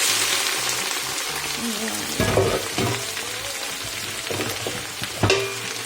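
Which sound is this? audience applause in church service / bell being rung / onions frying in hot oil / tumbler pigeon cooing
onions frying in hot oil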